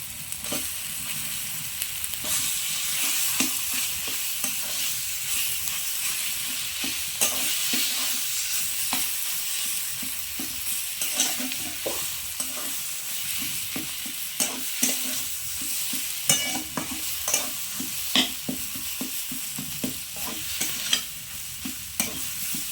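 Boiled potatoes stirred into a frying tomato mixture for a quick flour-based snack, with a steady sizzle under repeated scraping stirs throughout, close and moderately loud.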